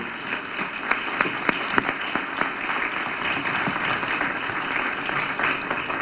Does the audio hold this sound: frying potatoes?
no